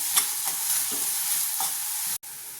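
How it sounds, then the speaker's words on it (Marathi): Steady loud sizzling of green chili and garlic frying in hot oil, with a few faint stirring scrapes, close up and continuous. "मिरची आणि लसूण तेलात छान परतून घ्यायचं."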